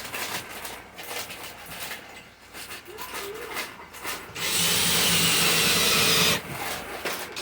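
A power drill drives screws into wood while hanging a Panda dryer: faint handling and rubbing sounds, then one loud steady whirring burst of about two seconds, with no talk.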